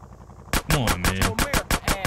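Rapid gunfire in Grand Theft Auto San Andreas Definitive Edition, about eight sharp, loud bursts in a steady rhythm over roughly a second and a half, with game sound beneath.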